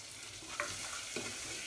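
Diced onions fry in butter and bacon fat with a steady, even sizzle, broken by a couple of soft stirring scrapes in the pan.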